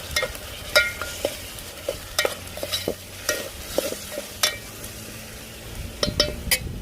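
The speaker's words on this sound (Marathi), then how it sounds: "थोडंसं वाटण आपण या तेलात भाजून घेऊया" Ground masala paste of coriander, ginger, garlic, coconut and green chilli fries in oil, with a soft sizzle under repeated rhythmic scraping and clinking strokes of a spatula against the pan.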